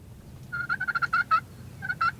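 Two mature wild turkey toms gobble out in an open field during a spring hunt, with a rapid run of rattling gobbles followed by a shorter second burst, moderately close and clear with no talking.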